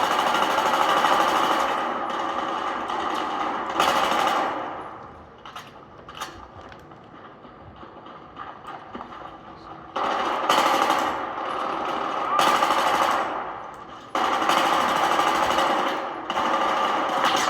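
Sustained rapid machine gun fire in the video game Battlefield 3 comes in long rattling bursts, loud and dense, broken by a quieter stretch in the middle before the firing resumes in two more extended bursts.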